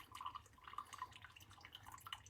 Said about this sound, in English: I'm adding a lot more water up top.